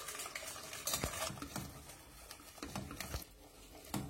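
A spoon stirs a heated milk and cream mixture in a pan, giving soft, irregular scraping and sloshing strokes that sound close and quiet.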